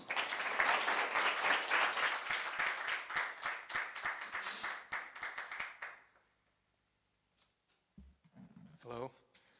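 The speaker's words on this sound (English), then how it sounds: "Let's give a round of applause, ladies and gentlemen, for Daniel Watahan" An audience at a high school poetry awards event in New York bursts into a full round of applause that fades out after about six seconds, followed by a short pause and then a voice speaking.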